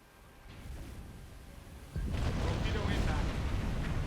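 A torpedo strikes a small oiler in Silent Hunter 4, a deep rumbling explosion that swells abruptly midway and holds as a sustained roar, with a voice talking over it.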